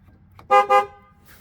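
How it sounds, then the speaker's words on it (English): Two loud horn honks from a 2005 GMC Yukon in quick succession, close by, with a brief gap between them, then quiet. "you should hear a double horn blast"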